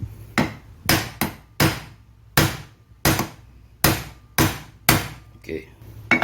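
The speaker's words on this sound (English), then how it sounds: "Just use this rusty socket" A rusty socket is hammered to knock out an idler pulley on a Toyota D4D engine, ringing out as about ten sharp metallic blows at a steady, deliberate pace, loud and close, with brief decays between strikes.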